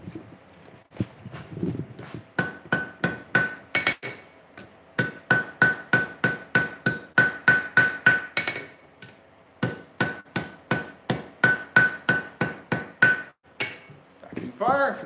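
Hot steel chain links are hammered on an anvil during forge welding, long runs of rapid ringing blows in bursts separated by short pauses, close and loud.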